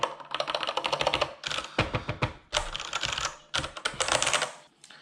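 Rapid typing on a Kinesis Advantage2 ergonomic keyboard, dense clattering keystrokes in quick bursts with brief pauses, close and clear with no talking.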